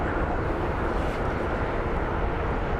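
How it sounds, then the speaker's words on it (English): An Embraer jet lining up on the runway at Phoenix Sky Harbor International Airport produces a steady, broad roar of jet engines, continuous and fairly distant, with no talk over it. "we have an Embraer"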